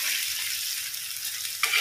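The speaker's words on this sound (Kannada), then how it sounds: "ಈ ಮಸಾಲೆಯನ್ನು ಒಳ್ಳೆ ಫ್ರೈ ಆಗ್ಬೇಕು ಮಸಾಲೆ ಎಣ್ಣೆಯಲ್ಲಿ" Masala spice paste frying steadily in hot oil for a turmeric-and-salt fish fry, a loud continuous sizzle with a brief scrape near the end.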